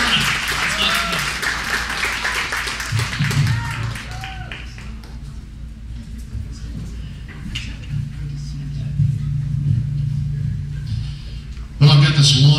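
An audience at an RNC Hmong gathering bursts into applause welcoming Arizona's Dan Severson, starting loud and dense, then thinning to scattered claps under a speaker's voice before swelling again at the end.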